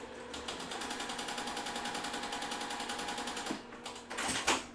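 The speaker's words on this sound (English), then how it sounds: "I'm going to sew both of these on both sides." A sewing machine stitches quilt blocks as they are chain pieced. The needle chatters in a fast, even rhythm, briefly stops, then gives a short final burst. The sound is close and moderately loud, with no talking.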